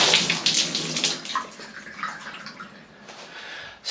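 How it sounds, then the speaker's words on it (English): Water gushing hard through a Kohler Rite-Temp pressure-balancing valve body being flushed during cartridge replacement, a loud hissing spray that fades to a softer trickle and surges again at the end. "do you see all the water coming out of there? That is flushing it and cleaning it."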